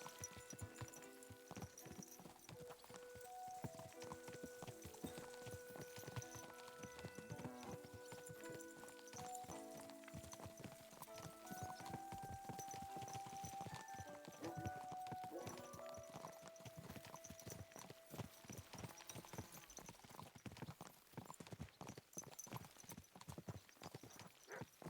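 Horse hooves clip-clopping in the medieval video game Kingdom Come: Deliverance II, a steady walking rhythm under a continuous bed of game music and ambience, with a possible neigh.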